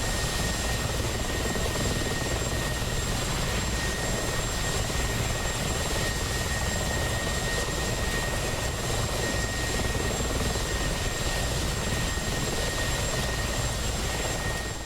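A Mi-24P Hind helicopter in DCS cruises steadily, giving a constant, loud, close rotor and engine drone with an even throbbing texture and a thin high whine.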